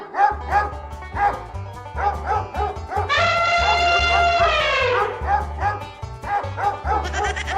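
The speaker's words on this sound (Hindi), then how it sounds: "हाथी तो चला गया लेकिन कुत्ते यहीं रुक गए।" Several dogs bark repeatedly in quick rhythmic bursts, close and loud, from an animated Hindi comedy scene. A sustained higher tonal cry runs in the middle stretch, then the barking resumes.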